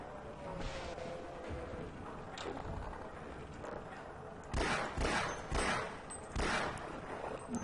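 Gunshots ring out in the Half-Life video game, a scattered series of sharp bursts that grow louder and denser toward the end over a low background.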